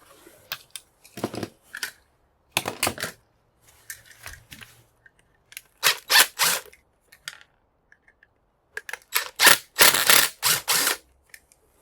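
Screws being unscrewed from a batch of light switches being scrapped for brass, in bursts of close metallic clicks and scraping, with quiet gaps between them.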